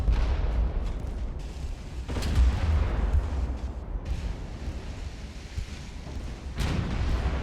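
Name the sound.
torpedo hitting a ship's stern in Ultimate Admiral: Dreadnoughts video game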